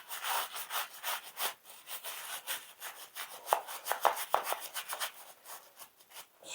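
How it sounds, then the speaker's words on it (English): Engine parts scrubbed clean during a partial engine teardown, a steady run of close, rhythmic brushing strokes with a few sharper scrapes midway and no talking. "Scrubbing."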